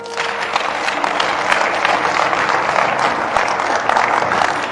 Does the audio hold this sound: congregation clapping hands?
yes